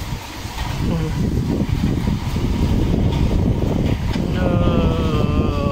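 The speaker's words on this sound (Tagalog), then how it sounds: "Ay, grabe ng hangin" Strong wind buffets the microphone in a steady roar, with a faint tonal engine-like hum running underneath.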